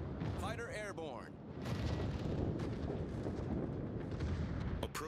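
Warship naval guns firing in World of Warships, a series of heavy booming salvos that roll into a thick rumble, with voice callouts at the start.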